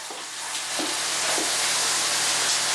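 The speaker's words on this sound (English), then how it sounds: "Frying, what are you frying? Zucchini?" Zucchini fries in a pan with a loud, steady sizzling hiss, close up and continuous, with a few faint soft clicks under the sizzle.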